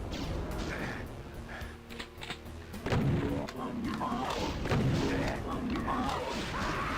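Super shotgun blasts and game combat in Doom 2, loud repeated booming shots and impacts with a busy, cluttered mix of effects.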